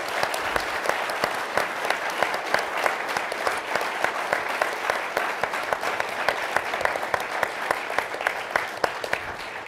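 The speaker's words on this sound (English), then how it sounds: "Maybe one final round of applause for this group of cooperative heroes." Steady, dense audience applause for Cooperative Hall of Fame inductees, continuous clapping with crisp individual claps poking through across the whole stretch.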